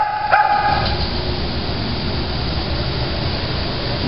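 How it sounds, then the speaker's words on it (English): At an adoption shelter, a dog gives a single short bark near the start, then steady kennel noise carries on with no further clear barks. "Barking and demanding attention kind of goes with this breed."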